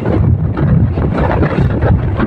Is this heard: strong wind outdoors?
yes